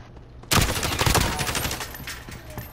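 Gunfire in the Warzone video game, with a sniper rifle among the weapons: an abrupt, dense burst of rapid shots, loud and close, that gradually thins and tails off.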